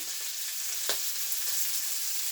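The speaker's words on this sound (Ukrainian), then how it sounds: "Як трохи підсмажиться бекончик, всипаємо всю цибульку" Bacon and onion sizzle in a pan for a pea and crackling pie filling, a bright, even crackle with one small stir-like burst, close and without talk.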